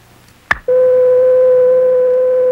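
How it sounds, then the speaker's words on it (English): After a short click, a steady pure sine tone from a frequency generator starts abruptly and holds constant and loud, unwavering to the end. "This pure tone gives us the classic sine wave."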